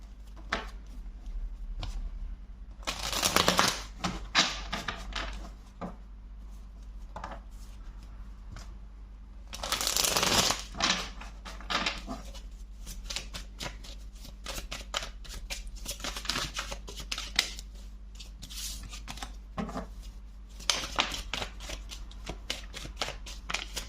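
Tarot cards are shuffled by hand in uneven bursts of papery riffling and soft flicks, with short quiet pauses between the louder shuffles.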